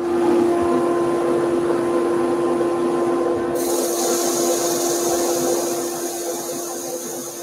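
A wood lathe spins as a Woodcut Pro-Forme hollowing tool cuts off a small nib, making a continuous close whirring hum with a scraping edge that eases off toward the end.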